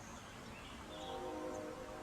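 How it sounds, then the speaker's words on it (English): A distant train rumbling faintly with a soft, sustained horn tone drifting in and a low steady background hum, far off and quiet, with no talking. "And there's our train in the distance."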